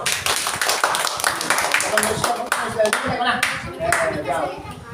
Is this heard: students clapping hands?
yes